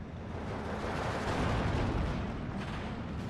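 A 220mm off-map artillery strike in Steel Division 2 lands as a sustained, rumbling barrage of blasts that swells in the middle and then eases, heavy and continuous with no voices.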